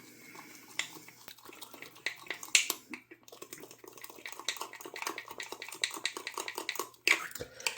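Flour being stirred into a sourdough starter in a jar, with a run of close scraping and clinking utensil strokes, an irregular rhythm of knocks and brief bursts, and no talking.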